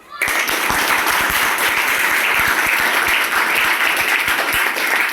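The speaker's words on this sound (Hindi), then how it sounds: "इसलिए तुम लोग इसके लिए तालियां बजाओ" Students clapping for a classmates' physics model demonstration on reflection of light: loud, sustained applause in a room, with distinct sharp claps standing out from the dense crowd sound and no speech over it.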